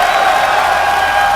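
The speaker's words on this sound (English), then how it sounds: "give a cheer for Naniwa!" A dense crowd cheers and roars continuously at a StarCraft II esports event at MLG Columbus 2011, a loud, close wash of voices.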